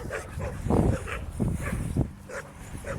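A dog barks and whimpers nearby in short irregular bursts, its yips and low woofs rising and falling over about three seconds with no talking.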